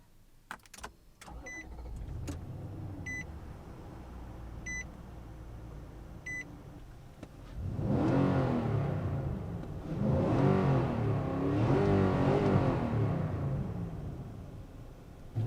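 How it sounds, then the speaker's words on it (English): A 2019 Nissan Titan PRO-4X 4x4 crew cab truck: a few interior chimes and clicks, then the engine cranks and catches with a rising roar, settling into a rumbling idle and swelling again as it pulls away. "let's kick her on, take it for a drive"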